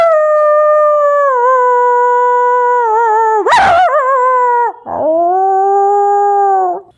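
A human voice imitates a dog howling, drawing out long, loud, wavering cries that bend upward and downward, broken midway by a short harsh catch before the howl resumes.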